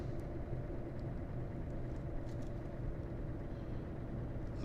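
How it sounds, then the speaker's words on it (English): A heavy truck in Euro Truck Simulator 2 with a 730–750 horsepower engine rolls downhill on its engine brake, giving a steady, dense low rumble that holds without pause. "Using that engine brake to slow us down a little bit."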